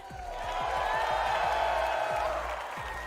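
At a Fortnite tournament in Copenhagen, a large crowd roars and cheers in a steady, dense swell, with scattered low thuds underneath.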